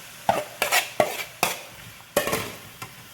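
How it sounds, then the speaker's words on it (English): Potatoes tipped into a pot of cooked-down celery, garlic and onion for Manhattan clam chowder, then stirred: about seven sharp scraping clatters of a spoon against the pot over a faint sizzle, close and alone. "Go ahead and add the potatoes."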